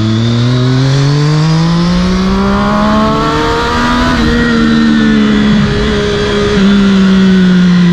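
A car accelerating hard on an open road, its engine climbing steadily in pitch through the gears, loud and close, with no voices over it.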